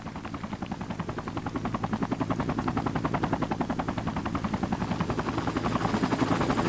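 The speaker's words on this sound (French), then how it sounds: "Attention, hélico en approche, restez hors de vue." A helicopter's rotor thumps in a rapid, steady rhythm, loud and close, growing slightly stronger as it approaches, with no voices, in the video game Sniper Ghost Warrior 3.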